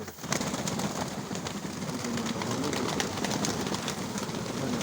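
Pigeons coo inside a loft in Chornobaivka, Mykolaiv, a dense, continuous murmur of many birds close by, with soft scattered flutters and shuffles.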